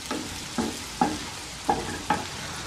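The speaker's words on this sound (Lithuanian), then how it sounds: "Svogūnai pakepė porą minučių." Onions frying in a pan for a broccoli and bean stew with bacon, a soft continuous sizzle broken by about five distinct scraping stirs at irregular intervals, close and fairly loud.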